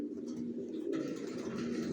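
Young racing pigeons, a pied pair with leg tags, coo in a low continuous burble close by, with a slightly brighter rustle entering partway through.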